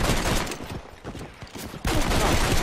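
Gunfire in the Red Dead Redemption video game, a dense, loud fusillade of overlapping shots that dips briefly in the middle before resuming at full intensity, with no talking over it.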